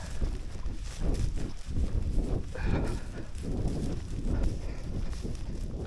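Sheep in open country by Burnhope Reservoir give a few rough bleats amid steady wind noise and crunching footsteps, heard outdoors at moderate distance.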